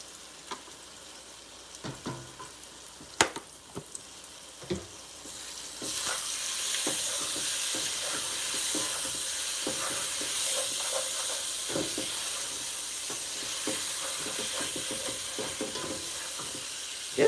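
Sausages with garlic powder sizzle in a pan, a few scattered clicks and knocks at first, then a loud, steady hissing fry that fills the rest of the stretch.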